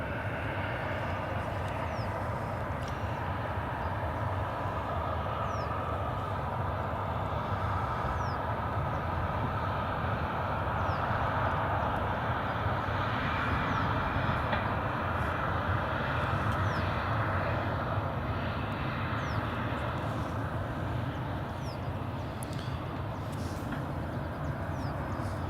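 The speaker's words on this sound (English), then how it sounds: "KLM's just taxiing." A KLM airliner taxis at Edinburgh Airport, its engines giving a steady broad roar and whine that holds at a constant level throughout, heard from a distance without voices.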